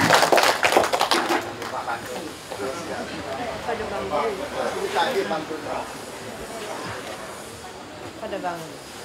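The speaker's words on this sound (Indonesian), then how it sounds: "Kita berikan tepuk tangan untuk Bapak Bambang Suherman" An audience claps for Bambang Suherman at a quarantine quality month event in Pangkalan Bun. The applause is dense at the start, then thins into scattered claps as a voice speaks over it.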